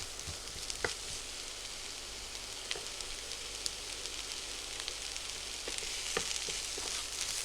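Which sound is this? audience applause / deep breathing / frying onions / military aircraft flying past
frying onions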